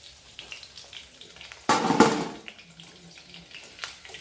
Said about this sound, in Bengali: এই যে চিকেনের টুকরো ভাজা হলো